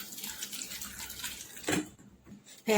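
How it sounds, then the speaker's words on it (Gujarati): Vegetables for curry, potatoes, aubergine and green cowpea beans, are rinsed under running tap water in a home kitchen, a steady close splashing stream with a couple of brief louder bursts. "પાણીથી શાકને ધોઈ લઈશું આપણે"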